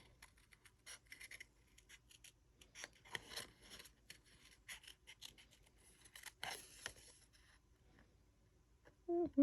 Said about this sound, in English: we're going to fussy cut this guy out